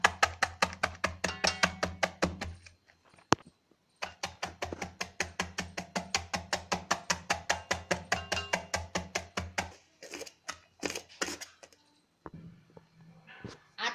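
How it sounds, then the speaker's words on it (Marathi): A knife chops a small cabbage on a board in quick, regular strokes, sharp close taps in steady runs with short pauses between bursts, while preparing vegetable momo filling. "तो कट करणार आहे।"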